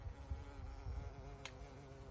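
A steady, close insect buzz with a low droning hum, continuous for a couple of seconds with no voices.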